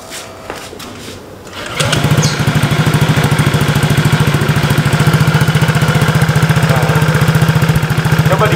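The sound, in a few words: modified Honda PCX motorcycle engine running with aftermarket exhaust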